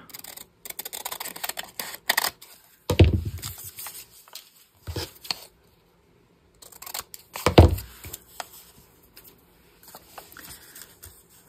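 Paper being trimmed to cut away white space, with a few sharp snips and crisp paper rustles, two louder cutting bursts separated by quiet handling, close and alone.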